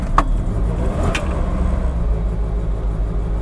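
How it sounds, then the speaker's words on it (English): Triumph Spitfire engine running just after starting, with an uneven, misfiring rumble close by and a couple of sharp clicks near the beginning, with no talking. "Well, there's still a misfire, but that is so much better. It actually starts."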